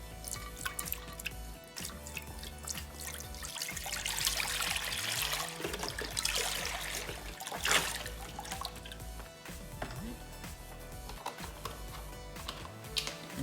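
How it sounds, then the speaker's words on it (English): Chicken broth poured from a container into a crock pot, a continuous soft trickle and splash lasting many seconds, fairly faint over a steady background hum. "I'm just going to take one of the containers of chicken broth and just pour the whole entire thing into the crock pot here"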